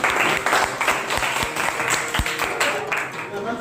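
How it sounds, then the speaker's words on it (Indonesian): Classroom applause for the first student group stepping up to present, a dense crackle of many hands clapping that runs throughout at moderate volume, mixed with voices talking over it. "kita beri aplaus untuk kelompok 1."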